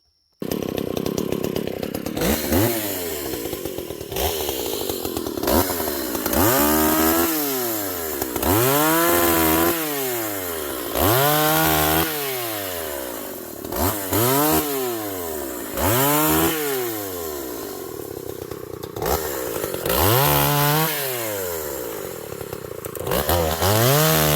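A Stihl 015 chainsaw cuts into a piece of wood, the engine revving up and dropping back in repeated loud surges, about a dozen cycles, with no talking.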